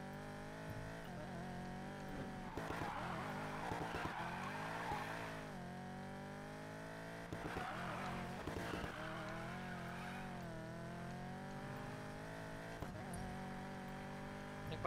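Tire squeal and skidding from a drift-unfriendly drag car in the Need for Speed Payback racing game, a sustained tonal screech layered over engine drone with no talk.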